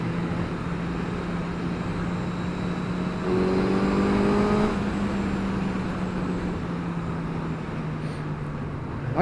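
Suzuki GSX-S1000 four-cylinder motorcycle engine braking on the road, a steady loud engine drone with a falling pitch sweep in the middle, mixed with wind rush.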